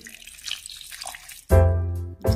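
Water gushes loudly and steadily into a mixer grinder jar for about a second, cuts briefly, then pours again, following a quieter stretch of faint background noise.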